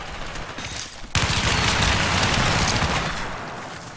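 Dense gunfire fight inside a tunnel in Battlefield 4 (Zavod map, tournament match): a quieter opening, then an abrupt loud burst of rapid crackling shots that stays sustained and busy before easing slightly toward the end.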